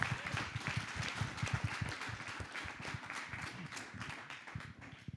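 An audience applauds panel speakers at a Black History and DEIA panel discussion, a dense, sustained patter of many hands clapping together, steady and fairly close, with no talking over it.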